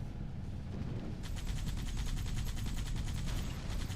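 GPMG machine gun in the Halo 2 Rebalanced mod, first a low rumbling ambience, then a steady rapid stream of evenly spaced automatic shots that keeps going loud and close to the end.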